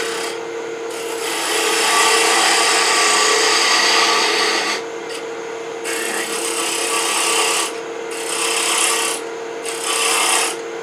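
A turning tool cuts across the end of a cherry wood blank spinning on a lathe, a loud, close, continuous rasping scrape with brief dips as the cut lifts off several times.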